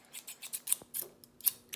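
Scissors handled while preparing to cut a wig, a quick series of faint, close metallic snips and clicks, about ten in under two seconds, no voices.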